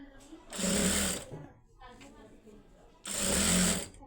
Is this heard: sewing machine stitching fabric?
yes